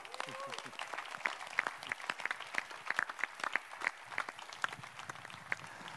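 An audience applauds the hosts from Condor, DER Touristik and Iberostar at a tourism event: scattered, distinct handclaps build into a lively round with faint background voices.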